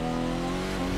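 A Koenigsegg Gemera engine driving in reverse, heard as a steady, even hum with sustained tonal whine and no pauses across a short moment, unaccompanied by talk.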